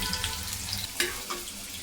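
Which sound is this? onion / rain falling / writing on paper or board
onion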